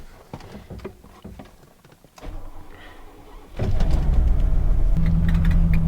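A Mercedes SL sets off on the road after an injector service: quiet cabin clicks and movement at first, then the engine and road rumble swell into a steady, louder drone from inside the car.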